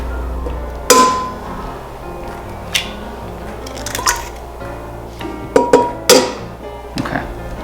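Eggs cracked one after another on the rim of a mixing bowl while making a sponge cake, giving sharp, close taps and crunches spread over several seconds with short gaps between them.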